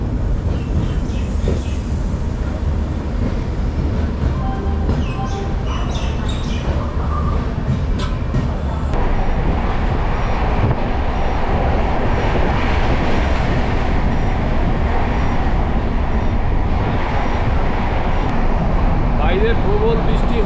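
A Howrah to Puri train runs fast on the rails through heavy rain near Kharagpur, its steady loud rumble and rattling wheels filling the whole stretch, with faint squeals and rain noise mixed in.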